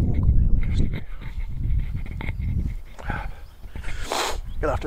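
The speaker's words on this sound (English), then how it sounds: "You'll have to excuse the heavy breathing" Heavy, rhythmic panting breaths after walking up a hill, close to an Olympus ME34 microphone, rasping in and out without pause, with some faint rustling in the background.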